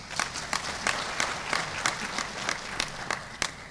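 Sparse applause greets the Mediator of the Republic at a formal government session, a moderate crowd clapping unevenly with distinct individual claps standing out, fairly close and steady for a few seconds.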